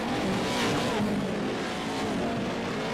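Race cars in the iRacing video game jostle and slide sideways on a short dirt course with a gravel pit and jump, a continuous loud engine roar with faint scuffing and tire scrub throughout.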